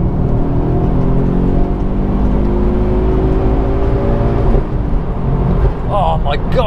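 A Ford Focus RS MK2 engine drones and climbs steadily under load during an overtake, heard from inside the cabin as a continuous rising tone, with a shift near the end.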